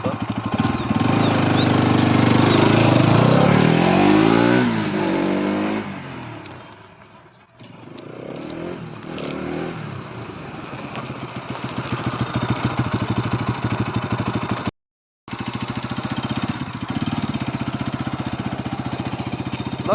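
Pulsar NS200 motorcycle engine while riding, a steady loud mid-pitched drone that rises and dips with throttle changes, with one brief cut near the end.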